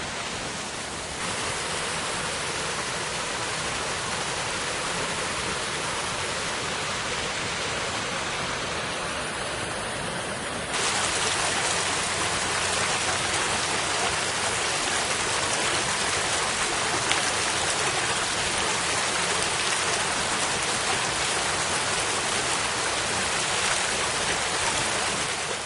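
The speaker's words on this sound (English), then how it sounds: "Waterfalls from right here." Steady broadband rushing of a small waterfall in Hurd State Park, East Hampton, Connecticut, heard close and constant throughout, growing slightly louder and brighter partway through, with no voices.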